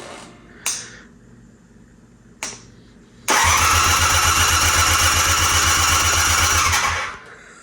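Engine of a 1981 Honda CM400A motorcycle with no gas, cranking on the starter: two brief bursts first, then a sustained, rhythmic mechanical churning for several seconds before it stops, without catching.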